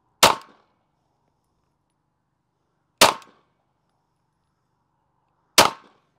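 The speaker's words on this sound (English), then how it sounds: "And now we're gonna shoot it over the CR." A 9mm pistol is fired over a chronograph, three loud, sharp shots spaced a few seconds apart, each with a short decay and near silence between them.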